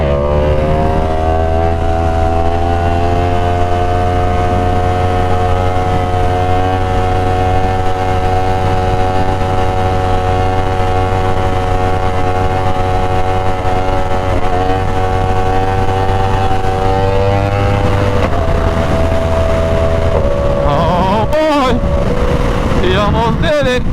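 A Yamaha R1 sportbike runs loud and steady in a tunnel, its engine tone holding high and smooth for most of the stretch before dropping off and giving way to a burst of mixed noise near the end.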